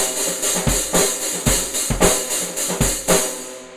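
Rapid stick strikes on a hi-hat with the pedal pressed halfway down, about a dozen sharp, sizzly hits in an uneven rhythm, close and fairly loud with no talking.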